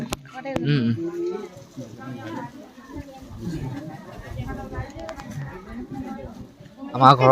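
A cow at home gives a short, deep low near the start, then people talk through most of the rest, with further faint animal sounds at the end.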